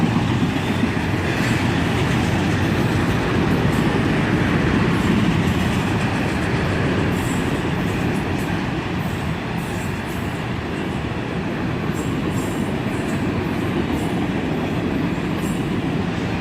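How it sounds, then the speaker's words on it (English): A CSX freight train's second locomotive, an ES44AC, rolls past with a steady, loud, continuous rumble of wheels and rail noise, faint clickety-clack and occasional high squeal, close by and without talk. "Here comes that second locomotive. An ES44 ACH."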